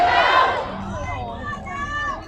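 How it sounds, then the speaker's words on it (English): A crowd of protesters at a rally, some seated, chanting together in unison, loud and close, with a rising shouted phrase that carries on steadily. "This is the chant that we've heard most tonight."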